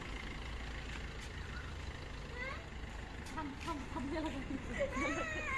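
A bus engine idles with a low, steady rumble as the bus is brought out through a gate, while people talk over the drone.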